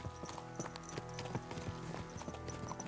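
Horse hooves clip-clop at a steady walking rhythm in the medieval game Kingdom Come: Deliverance II, close and clear over a low, constant ambient bed with no talk.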